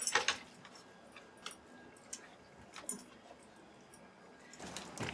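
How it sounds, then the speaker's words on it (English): A dog walks back and forth over dry leaves on a porch. Faint, scattered crunches and rustles come at intervals, with a slightly louder burst at the start and end, in an otherwise quiet setting. "The dog keeps walking back and forth over them, making crunching noises."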